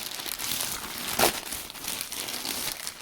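A plastic Shein shipping package gets opened in the middle: steady close crinkling and rustling of plastic with one sharper tearing rip partway through, with no talk.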